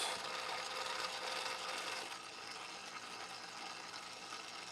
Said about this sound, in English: put it on the reamer, oval out the cut, put a nice oval bevel on it, uniform, clean that primer pocket out